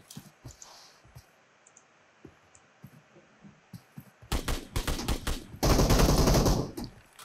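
Video game gunfire starts as sparse clicks and soft thumps, then breaks into loud, rapid bursts of shots and finally a dense, sustained volley at close range.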